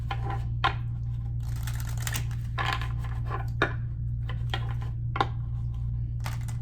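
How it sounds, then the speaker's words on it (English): A new deck of cards is shuffled in short bursts of riffling and snapping, several quick flutters with sharp card clicks, close by over a steady low hum, with no voices. "These cards are not wanting to shuffle, but they're new."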